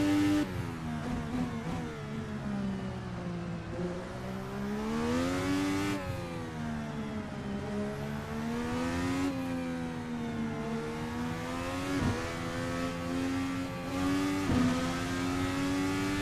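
Race car engine in a racing video game on a Toronto street-circuit lap, a loud steady mid-pitched drone that rises and falls through upshifts and corner exits, continuous for the whole stretch with no talk over it.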